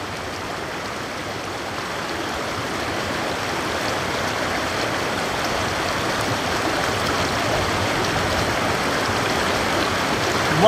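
A mountain stream of snowmelt water in Norway flows steadily, a continuous rushing gurgle that stays close and fairly loud with no voices.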